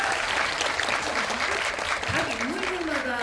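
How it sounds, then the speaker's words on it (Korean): An audience at a film screening Q&A claps steadily in a dense, even round of applause, with a voice speaking over it near the end. "박수 한번 해주세요"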